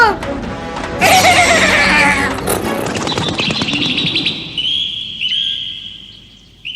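A cartoon wooden horse in a Tamil-dubbed Doraemon episode gives a loud, shrill, wavering whinny near the start, followed by busy cartoon sound effects and bright chirping tones that fade toward the end.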